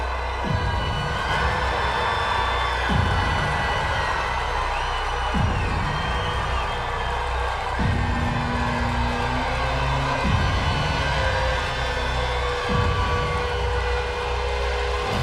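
A wrestling arena crowd roaring wildly at Kurt Angle's debut, a dense, loud, sustained wall of cheering and screaming that swells in repeated surges over a constant low rumble.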